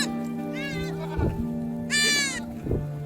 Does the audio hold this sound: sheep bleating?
yes